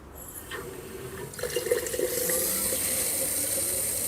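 Water pours into a jar to dilute a 30D garden spray preparation. After a quiet start, a steady gushing fill swells and then holds at an even level, close by and without talk.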